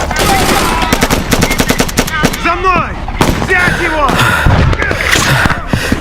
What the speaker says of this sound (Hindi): अरे मगर वो गोली चला किस पे रहे?